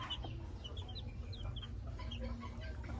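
Late-born Maclean gamefowl chickens cluck and peep softly in short scattered calls over a low steady background hum, with no talk.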